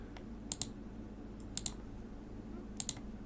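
Mouse clicks in a Baldur's Gate 3 toolkit editor, quiet paired double clicks repeated three times at uneven intervals over a faint background hum.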